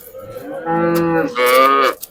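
Two long, loud cow moos, close by, with a brief pause between them and no talking.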